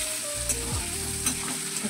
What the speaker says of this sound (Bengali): আলুগুলিকে কষিয়ে নেব।